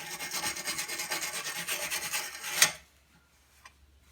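A mower deck bearing housing is scrubbed free of rust with quick repeated rasping strokes, close and rhythmic for a few seconds, then a sharp scrape before it stops into near silence.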